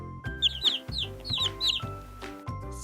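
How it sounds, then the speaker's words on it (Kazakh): A cartoon yellow chick cheeps in a run of bright, quick repeated chirps, heard up close over a light musical background. "Сары балапан."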